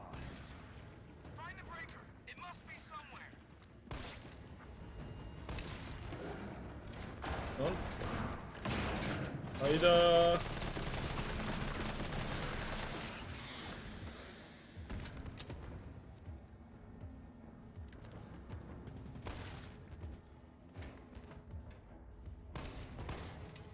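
Gunfire from a weapon in the video game Resident Evil 3 Remake, fought in a hospital. Scattered booming shots and thuds recur throughout, one heavier burst in the middle, over quiet in-game ambience.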